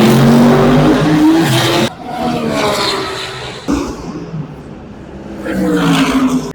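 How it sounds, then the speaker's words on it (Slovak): Race cars accelerating out of the pit exit at the Nürburgring, engines roaring close by in several loud passes that rise and fade one after another. "V podstate hneď tu za mnou, za chvíľu začnú vychádzať autá."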